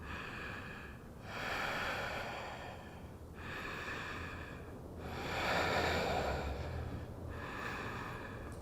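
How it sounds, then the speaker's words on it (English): Slow, deep breathing through a yoga pose: a few long, airy inhales and exhales in a calm, even rhythm, close by and fairly quiet, with no talking. "Take a few deep breaths."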